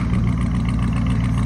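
A RAM 6.4L V8 with its exhaust removed rumbles loudly and steadily at close range, a deep, unbroken low growl with no voices over it.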